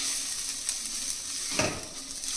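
Radish leaf bhurji being stirred with Kashmiri red chilli powder and spices in a pan over low heat, giving a soft continuous sizzle with a single louder scrape of the spoon midway.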